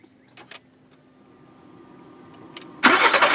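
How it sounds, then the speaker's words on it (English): A 2011 Volkswagen Beetle engine starts: faint clicks and a brief starter crank, then the engine catches and roars up loudly, settling toward a steady idle. "So here's what the car sounds like when it starts."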